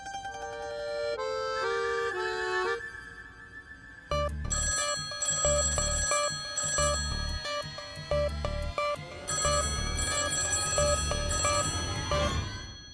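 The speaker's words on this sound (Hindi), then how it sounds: "2-2 घंटी बज के फोन बंद हो रहा है" An old-style telephone bell rings in a household scene, a first short burst of ringing followed by repeated loud, evenly spaced double rings that continue steadily, with no talk over them.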